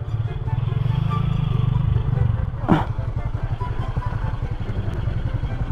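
A motorcycle rides along a road, its engine droning steadily up close with a brief clatter partway through, while people talk over it.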